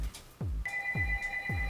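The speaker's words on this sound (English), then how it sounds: "Sorry about the phone. It's not mine." A phone rings in a room with a repeated electronic ringtone, several short trilling bursts followed by a sustained tone, clear and fairly close.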